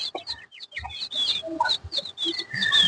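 Desi chickens kept in a cage cluck and chatter in a busy, overlapping flock, with short sharp calls and softer clucks coming close together and no talking.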